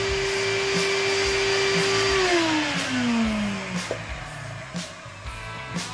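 A power sander works over glued-up wood boards for a rustic chalkboard, a loud whirring motor hum whose pitch drops as it bears down, then rougher scuffing and bumps; no voices.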